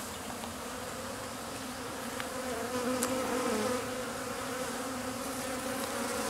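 Honey bees from a package buzz in a dense, steady swarm drone during installation into a top bar hive, close and continuous with no talking.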